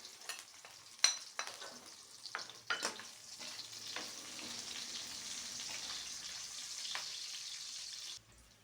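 Onion frying in a pan for a snail dish with coconut milk: a steady, moderately quiet sizzle with a few sharper stirring knocks early on, ending abruptly.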